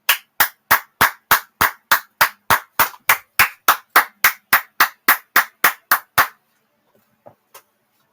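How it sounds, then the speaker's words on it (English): A single person claps slowly and sarcastically, about eighteen sharp, evenly spaced hand claps close to the mic, then stopping abruptly, with a couple of faint stray claps trailing after a pause. "that's my sarcastic clapping"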